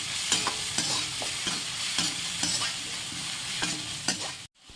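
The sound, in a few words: onions and green chillies sautéing in a pan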